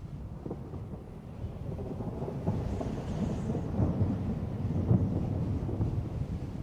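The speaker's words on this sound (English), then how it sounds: "Far out at sea, a spring storm brews." A spring thunderstorm far out on the North Atlantic: deep rolling thunder rumbles continuously with rain and wind, swelling in loudness near the middle and staying heavy throughout, with no voices.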